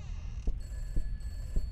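Telephone ringing inside a dark house in the horror video game Peters House, three soft evenly spaced rings with sustained electronic tones over a low ambient drone.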